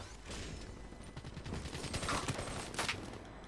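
Gunfire in the video game Call of Duty Black Ops III: a moderately loud multiplayer exchange with scattered shots and short bursts, one heavier report near the end, over a continuous game background without speech.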